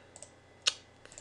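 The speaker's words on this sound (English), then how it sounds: "So just go to the text tool and we'll go ahead and type in our text." Quiet, close computer keyboard keystrokes: a few light taps followed by one sharper click, then two more soft taps, all brief and isolated against a low background hum.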